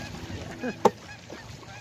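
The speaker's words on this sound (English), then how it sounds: "We got the geese flying over our heads." A goose flying overhead honks once, a short nasal call rising briefly out of quiet outdoor background noise.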